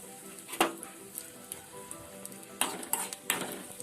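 Mustard seeds, curry leaves and dried chillies sizzle in hot oil, a soft, close crackle punctuated by sharp pops and a few clinks of a stirring spoon against the pan.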